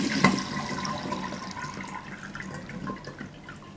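Liquid from a jar is strained, trickling and dripping in a steady, close splatter that slowly thins out.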